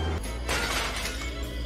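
Glass shatters in a loud crash during a car wreck in the video game Contraband Police, a bright burst of breaking over steady engine rumble, with no voices.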